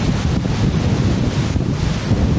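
Strong typhoon wind roars in a steady, dense rush, buffeting the microphone with low rumbling gusts that never let up.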